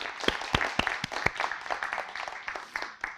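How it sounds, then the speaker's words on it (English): An auditorium audience at a symposium applauding the translators, a dense, close burst of clapping with many distinct sharp claps, staying steady and then easing slightly toward the end. "So let's give them a big round of applause"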